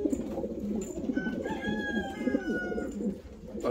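Fancy pigeons coo in soft, repeated low throaty rolls amid a busy chorus of birds, close and fairly quiet.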